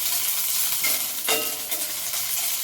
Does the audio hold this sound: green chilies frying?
yes